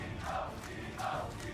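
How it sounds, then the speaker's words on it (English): A large crowd chants in an esports arena during a League of Legends match, in two rhythmic swells that sound distant and muffled with a steady roar between them. "As the crowd continues to chant."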